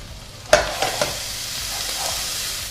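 Garlic-ginger paste with turmeric, coriander, mild chili and garam masala frying in a pan for butter chicken: a couple of sharp spoon knocks, then a steady close sizzle as the mixture is stirred.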